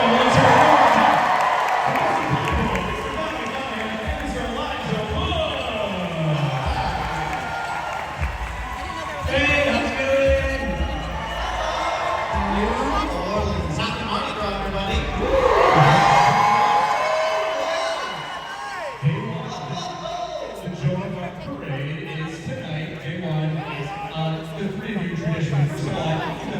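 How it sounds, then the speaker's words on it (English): Audience at a Lord of the Rings fan convention Q&A panel applauding, cheering and whooping continuously, loud and dense, with a host's voice talking over the crowd throughout. "Let's keep that applause going."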